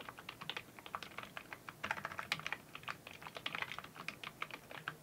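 Rapid, light clicking of keys on a computer keyboard as an email address is typed into an online registration form, close and irregular in rhythm, with no talk.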